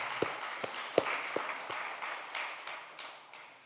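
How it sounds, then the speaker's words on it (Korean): A church congregation claps in thanks during a Sunday service, a few sharp separate claps at first swelling into a soft, steady patter of applause in a reverberant hall. "우리 박수로 감사의 마음을 전하겠습니다"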